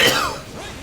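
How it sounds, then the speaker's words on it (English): A single short cough bursts out up close during a Persona 5 Strikers play session on PS4, followed by a brief fading rasp. "This cough, will it ever go away?"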